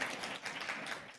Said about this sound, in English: By a round of applause, who went to Tootsie's last night?